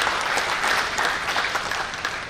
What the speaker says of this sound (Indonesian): Tepuk tangan dulu untuk produk Biogreen ya.